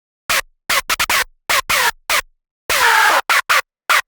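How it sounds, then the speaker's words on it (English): Raw, unprocessed hardstyle synth straight out of the synthesizer, with no EQ, reverb or compression: loud, bright, distorted stabs in a choppy rhythm of short bursts and one longer held note, alone with no talk. "I'll turn off just so you can hear what it sounds like coming out of the synth"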